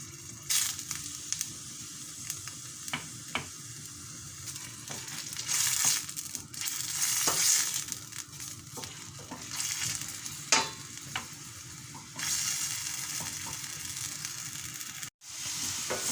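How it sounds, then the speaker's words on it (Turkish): Oil sizzles steadily as a large dry onion sautés in olive oil in a pan, with scraping stirs and occasional clinks of a utensil, close by and no talking. "Bir adet biraz büyükçe kuru soğanımız var. Onu ekliyorum. Kavuracağım biraz."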